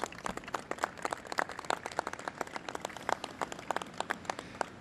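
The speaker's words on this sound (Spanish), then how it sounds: "eso merece que nos demos un aplauso todos" Audience clapping at the inauguration of Rosario's urban highway, a dense spread of many sharp, overlapping hand claps from a crowd, steady and moderately distant without any voices.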